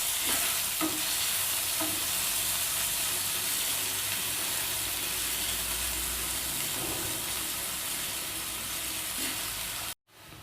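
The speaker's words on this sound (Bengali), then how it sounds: "পেঁয়াজটাকে আমি হালকা ভেজে নেব।" Onions, salted lightly, fry in a pan and give a loud, continuous sizzle with occasional stirring scrapes. The sound cuts off abruptly near the end. No one speaks.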